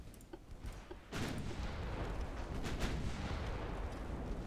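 A starboard torpedo launch aboard a heavy cruiser in Ultimate Admiral: Dreadnoughts: a sudden loud broadband whoosh-boom kicks in after a quiet moment and rolls on as a sustained rumbling rush, with no talk over it.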